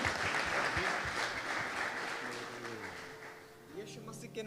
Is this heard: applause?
yes